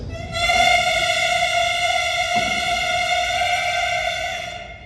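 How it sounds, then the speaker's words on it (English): A beginning band student at a middle school winter concert holds one steady clarinet note with clear, consistent air, sustained for roughly four seconds at a fairly loud, even level before easing off. "then we go on to our clarinets."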